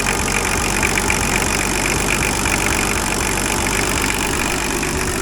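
An International truck engine with a Patrol cab swap idling steadily and loudly up close, a dense continuous rumble with slight rhythmic knock and no voices.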